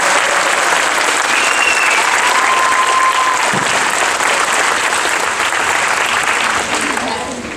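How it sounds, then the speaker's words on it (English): Sustained, dense applause from a school crowd honoring eighth grade students at a sendoff ceremony, steady and loud for nearly eight seconds before easing slightly at the end. "Let's give all these guys a round of applause."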